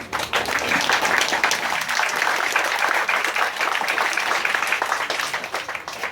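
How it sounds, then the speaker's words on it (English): A crowd at a residents' meeting about the LRT3 rail line in Damansara Utama applauds, producing a dense, sustained wash of clapping that holds steady for several seconds before easing slightly. "please give a big round of applause"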